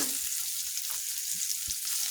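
Onion, garlic and dried chilli sizzling in a hot kadai for a tempering, a bright steady crackling hiss at close range with a few soft knocks, no voices.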